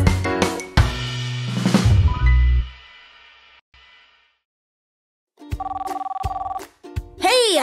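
An old-style telephone bell rings in a children's cartoon about helper cars, with loud rattling bursts at the start, a silent pause, then more rings and a cartoon voice near the end.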